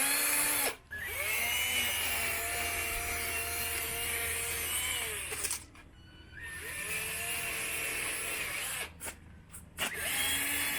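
A power drill spins a sanding pad against an Evo 9 headlight lens during a 3M restoration, a high whirring grind in three long runs separated by short pauses, close and steady.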